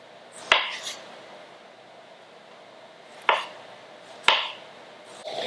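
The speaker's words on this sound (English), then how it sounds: "Now I'm doing a rough chop on these. If you want to be more precise and make slices, be my guest." Knife chopping fresh strawberries on a cutting board, three sharp separate cuts spaced a few seconds apart, close and fairly loud, with no talking.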